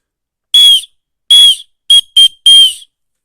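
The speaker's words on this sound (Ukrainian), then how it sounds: "Почули, як голосно він свістить?" Five loud, shrill blasts from a keychain whistle, the first two longer and evenly spaced, then two quick short toots and a final longer one.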